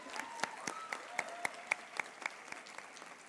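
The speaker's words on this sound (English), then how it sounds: "Yes, we can clap for her first." Scattered clapping from a small group at a Harvard Medical School class day honoring an award recipient, distinct individual claps with a faint voice in the background.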